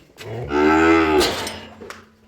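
A single long, loud buffalo moo close by, rising and then fading, followed by a short exhale and quiet.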